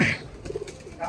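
Pigeons kept in home coops give a short, soft coo, close by and brief, with faint background noise around it.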